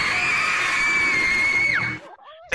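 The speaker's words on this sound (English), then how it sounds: "So we're gonna do like a... Something like a scream." A group of people scream together in a VRChat session, a loud sustained shared shriek holding steady for about two seconds before breaking off abruptly into silence.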